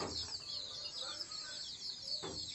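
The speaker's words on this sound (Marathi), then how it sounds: "ह्या आमच्या कोंबड्या" Desi hens and roosters cluck on a farm, faint and somewhat distant over steady background noise, with scattered short calls throughout and a couple of louder bursts near the start and end.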